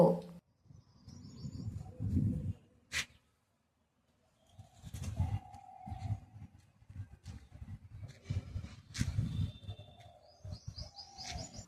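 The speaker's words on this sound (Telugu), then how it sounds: "ఒకసారి పక్షుల సౌండ్ వినండి ఎంత బాగుందో" Birds chirp and a dove coos outdoors in scattered short calls and tweets, fairly near but soft, with rustling handling noise between calls.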